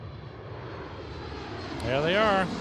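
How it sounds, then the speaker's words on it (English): An Icelandair Boeing 737 arriving at Seattle airport roars steadily as a constant broadband engine rumble, swelling near the end with a rising whine as the narrow-body jet passes close; a voice is briefly heard over it. "Can you imagine sitting on a 737 all the way from Iceland?"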